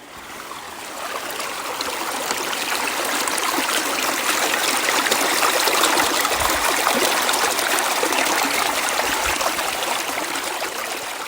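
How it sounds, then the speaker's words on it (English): A stream of water flowing outdoors in winter, heard up close as a steady, full rushing and gurgling that swells slightly and continues alone without talk. "let's see if I can have you listen to the water for a moment"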